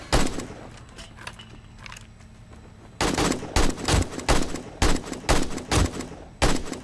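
Rapid bursts of automatic gunfire from the survival game 7 Days To Die, Alpha 21.2, ring out in loud, close volleys at a steady rhythm after a quieter stretch of ambient game sound.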